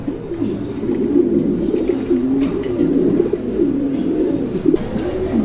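A pair of big black fancy pigeons coo steadily and close by at a pigeon farm, a continuous layered rumble of low throaty calls rising and falling with no talk.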